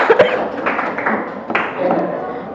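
Students in a classroom give a short burst of applause, a few seconds of scattered clapping close by with some soft thumps and taps mixed in.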